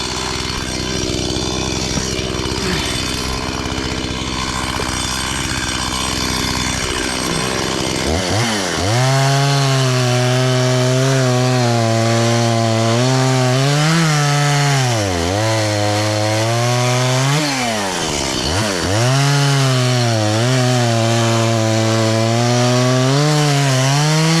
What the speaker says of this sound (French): Ça coupe super bien, c'est vraiment une super bonne tronçonneuse.